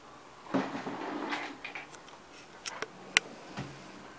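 Wooden drawers of a bedroom study desk slide and knock shut, giving a few soft scrapes followed by sharp clicks and one crisp clack, close by and quiet in an otherwise still room.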